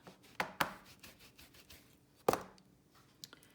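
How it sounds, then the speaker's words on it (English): A rubber stamp is scrubbed clean during card stamping, giving a few sharp rubbing strokes and dull taps in quick succession, close and fairly loud, with no talk. "So now I'm going to clean my stamp"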